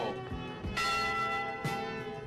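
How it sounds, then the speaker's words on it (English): A memorial church bell rings out in clear, resonant strokes with long sustained overtones, one strike near the start and two more strong strikes following, each decaying slowly. "a bell was rung 29 times for the sailors who lost their lives"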